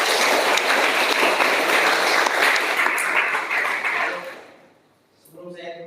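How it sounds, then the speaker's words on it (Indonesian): Applause from a leadership camp audience: a dense, even wash of clapping for about four seconds that fades out, followed by a voice speaking. "Tepuk tangan untuk kita semuanya."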